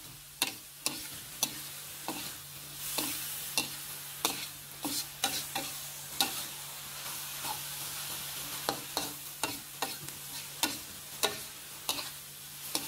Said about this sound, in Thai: เริ่มผัดหน่อไม้ดองให้เข้ากันให้หมดเลยครับ